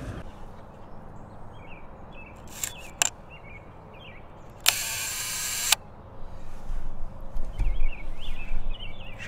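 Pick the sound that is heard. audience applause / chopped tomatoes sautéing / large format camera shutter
large format camera shutter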